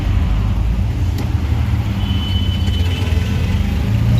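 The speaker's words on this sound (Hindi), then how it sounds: "आप अपोजिट साइड भी देख सकते हैं गाड़ियाँ निकल रही हैं रफ्तार में" Cars and yellow-plate taxis speed past on a busy road, making a loud, continuous low rumble of traffic with no talking.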